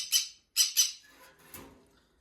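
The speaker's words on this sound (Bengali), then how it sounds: "পাইনাপেল কুনুর মাশাল্লাহ অনেক অ্যাক্টিভ একটি পাখি" A pineapple conure gives sharp, loud squawks, three quick bursts close by, followed by a fainter call and quiet.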